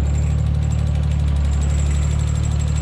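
An RB25DET engine idles steadily and close by in a car that has not been started for a while, a continuous low, even hum with a faint high whistle over it and no talking.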